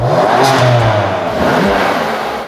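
A stock BMW M4 (F80/F82) turbo engine revving hard and close, loud throaty roar rising and falling continuously without a break.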